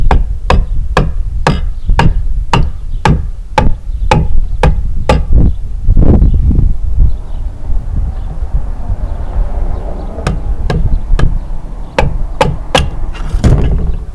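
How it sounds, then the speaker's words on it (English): Hammer tapping a piston into the cylinder bore of an engine during a 224 rebuild: a steady series of sharp metallic taps at an even rhythm, a pause filled with clatter, then several more taps, close and loud. "We'll just slowly tap that piston in."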